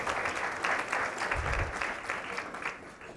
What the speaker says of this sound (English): how about a good round of applause for Purva and Danielle?